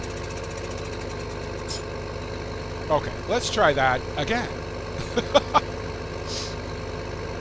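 A tractor engine in the video game Farming Simulator 15 drones at a steady, low idle throughout, with a person talking briefly over it.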